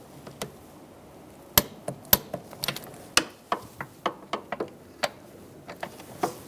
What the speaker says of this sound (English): So now we're going to torque this to 12 foot-pounds.